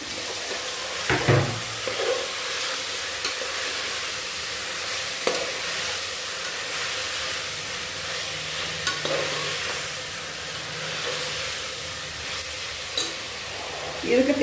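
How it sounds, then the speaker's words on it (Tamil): Beans, potatoes and carrots sautéing in a pressure cooker, a steady close sizzle with occasional stirring clatter and scrapes throughout. "இது எல்லாத்தையுமே குக்கரில் சேர்த்து நல்லா வதக்கிடுவோம்"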